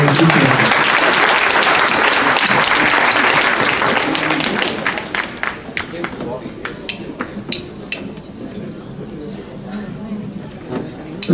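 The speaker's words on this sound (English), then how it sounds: "if we could please give a nice round of applause for Brother Rashid Qureshi." Sustained applause from an audience at an award ceremony honoring a recipient, loud and dense for about five seconds, then thinning into scattered individual claps as it dies away.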